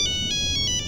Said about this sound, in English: Someone want to grab my cell phone